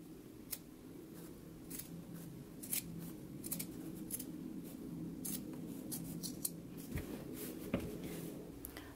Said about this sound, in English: we can go ahead and trim it down close to the stitch